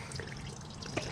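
Water fills and trickles softly around a cast aluminum treasure chest prototype as it soaks, a faint continuous wet burble with a tiny drip-like splash near the end.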